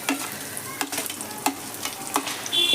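Thinly sliced onion and minced ginger frying in a pan, a steady close sizzle with a few sharp stirring scrapes and clinks breaking through, no voices.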